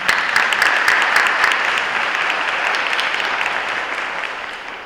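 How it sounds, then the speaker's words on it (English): An audience claps together at a Girl Scouts Gold and Silver Award ceremony, giving sustained, fairly loud applause that holds steady for about five seconds and eases slightly at the close. "Round of applause."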